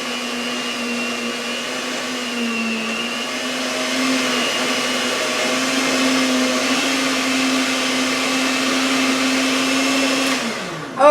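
An electric mixer whirs steadily while it mixes a chocolate chip cream cheese peanut butter cup dip, a sustained motor whine that rises slightly partway through and cuts off abruptly at the end.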